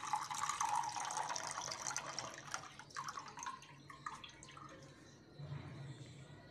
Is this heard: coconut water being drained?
yes